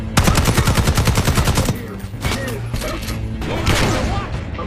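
Rapid automatic gunfire and a heavy shotgun blast during a Call of Duty: Black Ops 6 campaign firefight, loud, dense bursts at first that thin into scattered shots and impacts, with voices shouting faintly beneath.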